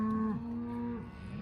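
Cattle on a farm moo in a long, loud drawn-out call that breaks off and rises again into a second call, close by with no talk over it.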